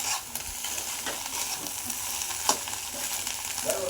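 Egg bhurji with onion being stirred and sautéed in a pan, a continuous sizzle broken by repeated spatula scrapes and taps, close and moderately loud with no speech.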